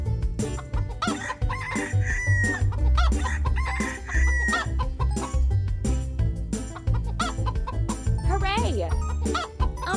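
Hungry farm hens cluck and a rooster crows, loud and busy, layered over a steady musical backing with chirpy, tinkling tones throughout.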